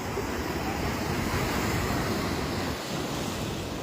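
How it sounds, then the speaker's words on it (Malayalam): Sea waves surging onto the shore at Shankhumukham beach during the monsoon, a loud, steady roar of surf with wind buffeting, continuous and without voices. "കരയിലേക്ക് വെള്ളം അടിച്ചു കയറി നിൽക്കുന്ന ഒരു സാഹചര്യമാണ്"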